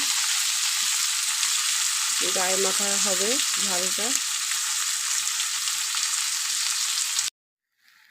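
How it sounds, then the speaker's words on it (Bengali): Onion and tomato frying in a pan, a dense continuous sizzle close up, with a brief stretch of speech over it midway before the sound cuts off abruptly near the end. "পেঁয়াজ আর টমেটো একটু ভাজা ভাজা হয়ে এসছে"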